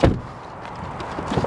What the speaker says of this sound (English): Closing door sound.